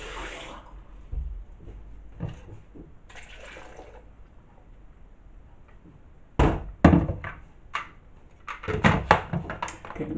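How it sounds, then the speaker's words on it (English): Water is poured into a ginger, garlic and lemon mix, with splashing bursts between quieter handling noises and a few knocks, close by and with no talk. "now let's get water, then mix it up."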